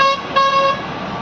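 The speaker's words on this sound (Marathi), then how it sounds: "हॉर्न वाजवत" A Tata truck trailer's horn honks twice in quick succession, two short loud blasts close by with highway traffic noise underneath.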